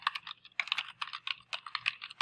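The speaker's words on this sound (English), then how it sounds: "my keyboard is so loud" Rapid clicking keystrokes on a loud computer keyboard, close and distinct, coming in irregular quick bursts with short pauses between runs of typing, heard alone without talk.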